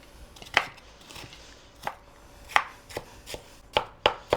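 A knife chops raw onion on a cutting board in a home kitchen, about eight sharp, separate strikes in an uneven rhythm, close and fairly quiet, with no voices.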